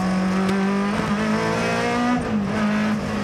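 A BMW M3 E30 rally car roars close by, its engine holding a steady high-pitched tone that dips and climbs with throttle changes, with tire squeal mixed in and no talking.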